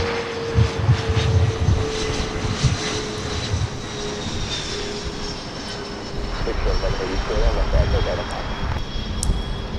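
An Avianca Airbus A320neo airliner at Los Angeles International Airport roars with a steady engine drone and a faint whine, close and loud, while people talk over it.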